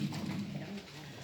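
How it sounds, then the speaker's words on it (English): Pet birds, pigeons or doves, cooing and calling indoors, a low steady murmur of close coos that runs through the whole short stretch without pause. "put the birds outside and get them out of the area, because there's so much going on that they start screaming and going crazy"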